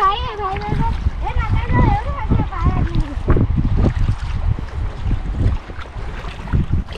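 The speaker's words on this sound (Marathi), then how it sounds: "पाणी वाढतंय आता हा हे बघा पाणी वाढतंय आता" Rising-tide sea waves wash and splash on Bordi beach under wind noise, with people talking loudly over the surf throughout.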